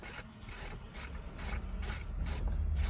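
A plastic screw on a Jeep is loosened with a ratcheting tool, giving regular rapid clicking bursts about twice a second, close and steady, with no talking.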